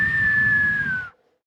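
A person's voice imitates a neighborhood watchman's whistle with one long, steady, shrill tone that falls slightly in pitch before stopping abruptly, near and fairly loud.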